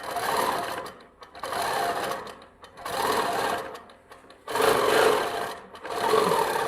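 A computerised quilting machine stitches in continuous mode, its needle running in rapid bursts of about a second each, separated by short pauses, close and fairly quiet.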